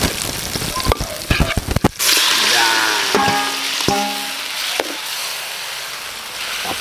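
Garlic and onion sizzle as they hit a hot pan while beef with pineapple is being cooked: a steady crackling hiss that rises after a few sharp knocks and clatters, with brief utensil clinks over it.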